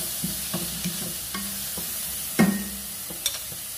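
Onions browning in a pan with ginger-garlic paste, frying with a low sizzle while a spoon stirs and scrapes in irregular knocks, one sharper clack midway.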